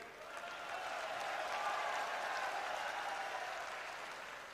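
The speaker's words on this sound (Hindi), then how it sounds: "आप ताली बजा रहे हो, मीडिया नहीं दिखाएगी।" Audience at a 2024 election rally clapping together, a sustained wash of applause that swells and then fades slightly, heard at a distance and fairly faint.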